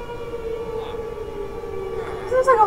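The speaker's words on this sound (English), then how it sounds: "This looks like a World War II air raid siren." A World War II–style air raid siren wails in Minecraft, a steady, droning tone holding across the whole stretch before rising and wavering near the end, loud and close.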